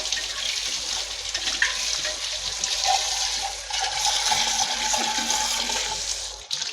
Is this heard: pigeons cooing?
no